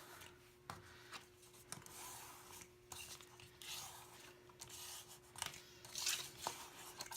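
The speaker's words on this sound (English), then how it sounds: "just gonna give that a good little rub" Folded paper crease being rubbed down by hand while making a mini album, a faint, soft scraping and brushing on a tabletop in short repeated strokes, with light taps between them.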